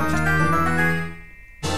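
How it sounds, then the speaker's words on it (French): In The Legend of Zelda: Ocarina of Time, a big treasure chest opens to a sustained, swelling musical jingle with a rich harmonic tone. It fades after about a second, and a brief bright burst of sound cuts in at the end. "Le premier gros coffre s'ouvre dans ce jeu."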